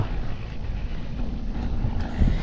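Steady wind buffets the microphone at a mountain viewpoint overlooking the sea, a constant low roar that fills the whole stretch without pauses, close and moderately loud, with no one talking.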